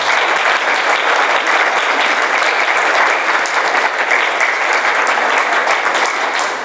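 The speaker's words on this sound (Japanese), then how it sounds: "拍手をされましたけれども" Audience applause at a Japanese talk about seeds, given by the Azumino seed bank. Dense, steady clapping from a full room goes on without a break and stays loud and even throughout, with no voices over it.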